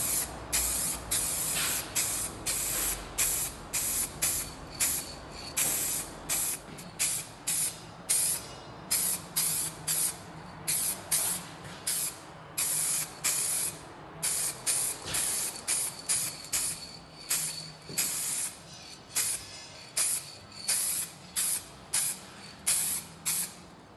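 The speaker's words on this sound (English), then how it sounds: "It's now time to apply a number of coats of lacquer. In this case, it's a matte lacquer." Matte lacquer sprayed from a can onto a repaired kitchen laminate surface, heard as a series of loud, close hissing bursts of a few seconds each, separated by short pauses in a regular rhythm.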